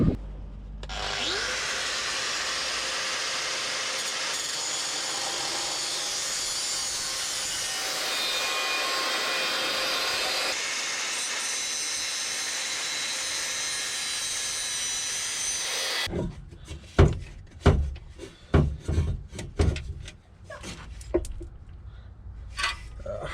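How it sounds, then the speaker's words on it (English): A power tool cuts through a part under a Mazda RX8 during engine removal, a long continuous loud grinding whine for about sixteen seconds, followed by irregular clanks and knocks of metal being handled. "I'm just going to be lazy and cut this here so I don't have to take the whole lot out"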